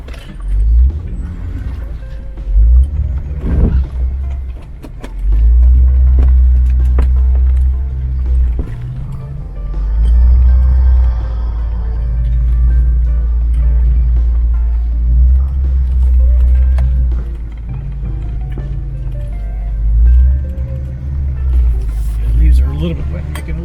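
Off-road vehicles on a Cape Breton fun run grind through wet, slippery terrain, a loud, steady low engine rumble close by with mechanical knocks and swells, while people talk over it.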